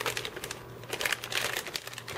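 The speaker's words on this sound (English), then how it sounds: "we're going to slip him into this plastic bag for tonight" Plastic bag crinkling close up as a raw whole chicken with a broken backbone is slipped inside for marinating, a busy run of rustles and crackles over about two seconds.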